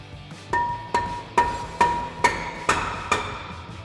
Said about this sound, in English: we're just gonna grab a hammer and just smack on the back of the rotor where the caliper was